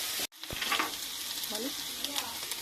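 Ingredients for prawn malai curry frying in a pan, a close, steady hiss of oil with a brief dropout near the start and faint hints of a voice underneath.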